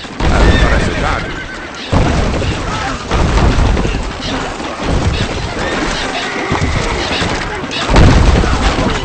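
Horses neigh and gallop in the medieval strategy game Stronghold Crusader, loud and busy throughout, with whinnies and hoof clatter over crashes and battle noise, while voiced lines are spoken over them.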